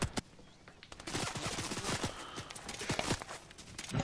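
Rapid overlapping gunfire from a video game squad shootout, bursts of sharp cracks clustered through the middle and late stretch, some shots near and loud, others fainter in the mix.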